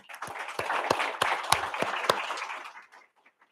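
An audience applauds speaker Emma Waters at a conservative women's center event on bioethics, several sharp individual claps standing out over a moderate wash of clapping that fades away near the end.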